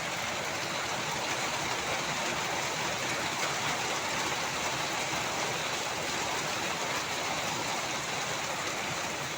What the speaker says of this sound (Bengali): ডাইরেক্ট বরফ পড়ছে।